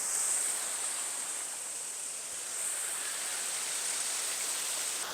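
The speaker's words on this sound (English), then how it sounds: "Hopefully you can hear me above the waterfall." A waterfall in the Churnet Valley roars as a steady, dense rush of white water, close and unbroken, with no voices over it.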